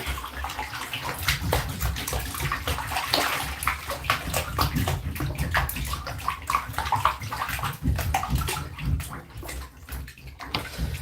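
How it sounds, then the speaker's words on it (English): Feet are scrubbed with water in a bathtub, making repeated close sloshing and splashing sounds with brief scrubbing strokes, loud and up close, with no talking. "So we'll give the feet a final scrub here."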